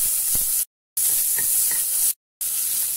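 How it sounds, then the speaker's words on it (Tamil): Mustard seeds spluttering in hot oil in a pan while cooking brinjal chutney, a steady bright sizzle with scattered small pops, close and fairly loud, broken by two short silent gaps. "இப்போ கடுகு வெடிக்குது"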